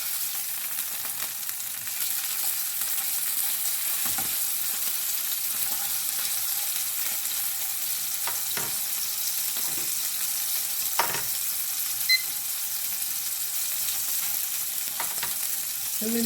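Pork browning in a hot pan with a continuous bright sizzle and crackle, a few clicks and stirring taps scattered through, and no talk.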